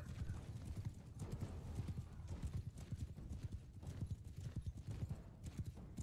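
Horses gallop in Mount & Blade II: Bannerlord, a fast, rhythmic drumming of hooves that stays close and steady throughout, with an occasional whinny and no talking over it.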